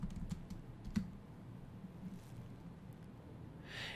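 Computer keyboard keys tapped during a 3D layer setup in After Effects: a few scattered clicks early on, then quiet room tone, faint and close, with no talking.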